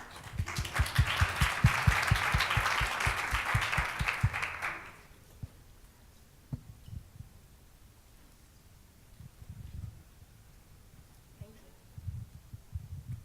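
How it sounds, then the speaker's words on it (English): An audience applauds a presenting team at a science fiction talk, with dense clapping that lasts about five seconds and then stops, leaving quiet room noise and a few faint knocks. "So round of applause for my team and I."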